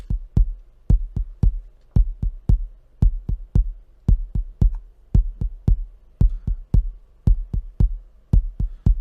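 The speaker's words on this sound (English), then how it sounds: "So the next one we have that's the kick 2 also." A second kick drum in an FL Studio Afro-house beat pounds out a steady, slightly syncopated pattern of deep, punchy hits with a crisp click on each attack, loud and alone throughout.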